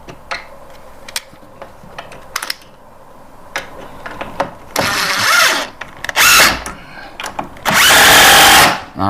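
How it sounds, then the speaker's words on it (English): A power drill drives a 3-inch screw into exterior wall framing lumber, with scattered taps and clunks before two long, loud bursts of whirring motor as the screw is sunk close by. "we're going to put this 3-inch screw in the back first"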